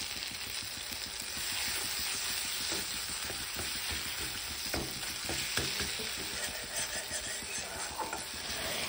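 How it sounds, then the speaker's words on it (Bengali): Fish curry masala for macher jhal is stir-fried in a pan, giving a continuous faint sizzle and repeated scraping stirs, close but quiet, with no voices. "এদিকে তরকারি কষাচ্ছি"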